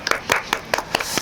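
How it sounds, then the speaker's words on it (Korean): A small group of people gives a short burst of clapping at an upbeat Korean business gathering, a few uneven claps lasting about a second. "박수!"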